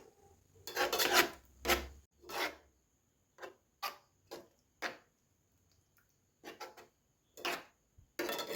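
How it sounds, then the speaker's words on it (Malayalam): A spoon stirs curd into beetroot kichadi, making a series of soft scraping and rubbing strokes in irregular bursts with short quiet gaps between them. "നമുക്ക് തൈര് ചേർത്ത് കൊടുക്കാം. നന്നായിട്ട് ഇളക്കി യോജിപ്പിക്കാവേ."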